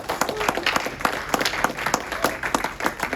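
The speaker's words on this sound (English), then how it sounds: "Please give a round of applause to our panel." An audience at a Ques on the Hill 2026 panel on unity across generations gives a round of applause, a moderate patter of scattered claps from a smallish crowd, fairly close and steady for a few seconds.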